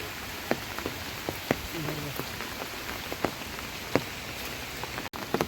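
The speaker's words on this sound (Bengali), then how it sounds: "মেঘাচ্ছন্ন আকাশ, প্রচণ্ড বৃষ্টি হচ্ছে।" Heavy rain from Cyclone Remal falls steadily as a dense, continuous hiss with scattered louder drop taps close by.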